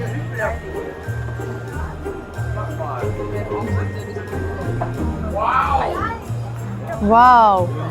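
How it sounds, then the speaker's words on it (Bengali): Busy crowd murmur fills the Fürth Christmas market after rain, with chatter, children's voices and scattered jingles mixed in, plus a steady low tone and a couple of nearby sharper voices near the end. "প্রচন্ড ভিড় আজকে"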